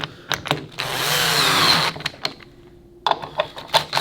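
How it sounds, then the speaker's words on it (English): A power tool whirs in a short, loud burst while backing metric 8mm bolts out of an Abyzz pump, framed by clicks and clanks of metal handling before and after. "You need 2 metric 8mm bolts to get it out. Bolts. Power tool."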